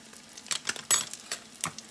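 Sauce made with garlic chili paste being mixed in a small dish: quiet clinks and scrapes of a utensil against the container in short irregular strokes, with no talking.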